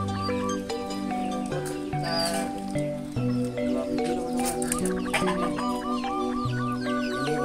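Young Elba chickens, about two weeks old, cluck and chatter continuously in a busy, layered chorus, with several birds calling at once close by.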